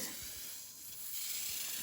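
A can of snow spray hisses steadily while a child decorates a snowman, a soft continuous spray close by with faint, brief pulses and no speech during it.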